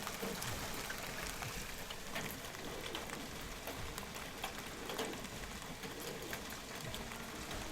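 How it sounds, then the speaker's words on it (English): Hail falls steadily in a dense, unbroken patter with scattered sharper ticks of impact, a continuous wash of sound heard from indoors with no voices. "Yo, it's hailing."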